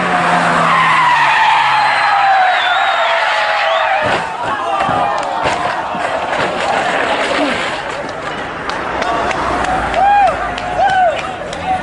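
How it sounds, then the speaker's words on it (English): A Peugeot skids around a corner with tires squealing, then crashes with a loud impact and scattered clatter, with crowd noise and voices underneath. "He tries swinging it around the corner, but the back end comes out and it ends very badly."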